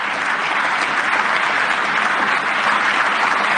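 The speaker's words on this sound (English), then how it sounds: "Everyone in that room is clapping" A large audience in a conference hall applauds steadily, a dense, loud wash of clapping that holds evenly without pause from start to finish.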